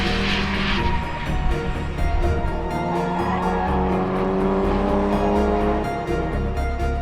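A car drives hard on a race track during a track day heat, a loud continuous engine roar with rising and falling pitch through gear changes, heard from inside, no talk.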